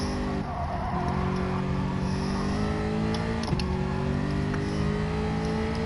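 A racing car engine in a video game holds a steady high drone that climbs gradually in pitch, with a brief tire squeal partway through and no talking.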